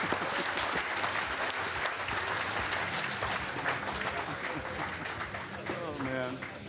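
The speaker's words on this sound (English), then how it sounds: "So give yourselves a round of applause" Conference audience at ChefConf 2014 applauding, a thick steady wash of many hands clapping throughout at a moderate distance, with a voice briefly speaking over it near the end.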